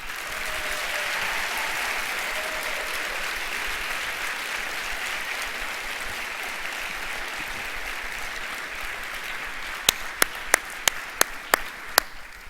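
Audience applause at a school Veterans Day ceremony in a large hall, a steady, loud wash of clapping from many people lasting throughout, easing slightly toward the end as a few sharp, distinct claps stand out.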